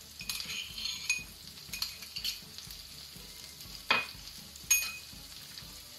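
Ginger and garlic fry in ghee for a simple chicken curry, a soft steady sizzle with metal spoon scrapes and occasional sharp clinks against the pot, and no talking.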